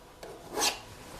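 A palette knife drags oil paint across a canvas in one short, close raspy scrape, preceded by a fainter touch, in an otherwise quiet room.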